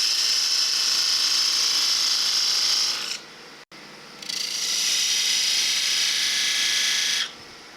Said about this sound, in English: I'm going to use the diamond tip parting tool just to take the housing down across the mark